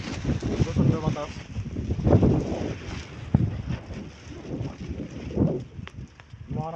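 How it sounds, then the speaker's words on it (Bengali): Strong wind blows across a river, a steady rushing buffet with loud gusts, while a person talks over it nearby throughout. "প্রচন্ড বাতাস,"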